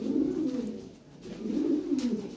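Pigeons coo in two long, rolling bursts with a brief dip between them, close and clear with no talking; a female fancy pigeon among birds offered for sale.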